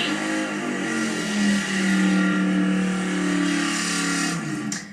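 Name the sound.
drag racing cars accelerating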